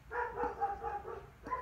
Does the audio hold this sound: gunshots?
no